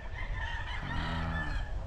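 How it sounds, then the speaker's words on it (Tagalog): Gamefowl roosters on a game farm crow and cluck in a dense, steady blend of calls, moderately loud with a noisy farmyard background and no speech. "mga manok na naka-cord ngayon dito sa Kodja Game Farm"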